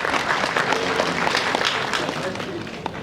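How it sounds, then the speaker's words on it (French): Audience applause at an international employment forum in Togo, dense continuous clapping from a crowd, loud and close, filling the whole short stretch. "Merci beaucoup, applaudissez."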